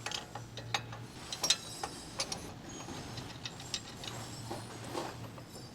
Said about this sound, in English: Use the 17mm wrench to rotate the ball joint separator screw.